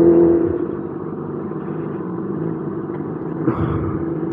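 A Kawasaki ZX10R motorcycle rolls through city traffic in first gear, a low, steady engine rumble heard from on board, with a brief tone at the start and a small bump near the end.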